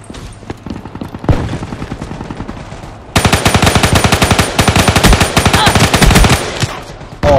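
Sustained automatic gunfire from a machine gun in the shooter game Call of Duty: Black Ops 3, starting with scattered shots and then a loud, rapid continuous burst lasting several seconds.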